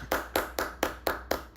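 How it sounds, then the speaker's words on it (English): An audience applauds a guest speaker at the close of an investor talk, the clapping coming in six even, sharp bursts with short gaps between them, close and fairly loud. "big claps to Miss Yimin"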